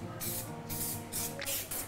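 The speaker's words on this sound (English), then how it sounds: "It's basically vegetable oil in a spray, and it's just super quick and really easy." Vegetable oil sprayed from an aerosol can into cake tins, four short bursts of bright hissing separated by brief pauses, close and fairly loud with no talking.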